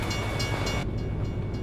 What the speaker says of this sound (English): There's an actual train going by.